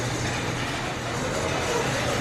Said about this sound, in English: There's the train coming around.